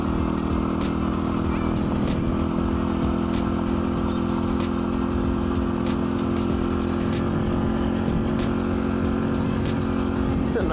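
A dirt bike rides on gravel in the woods, its engine humming steadily and close by, with regular ticking and clatter from the loose stones, and no break in the sound.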